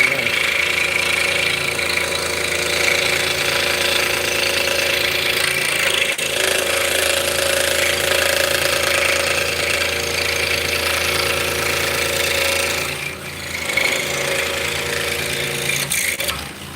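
A scroll saw cuts wood for drop spindles, its blade running at around 1,500 strokes per minute and giving a loud, steady buzzing drone with a rapid pulse and a brief dip near the end.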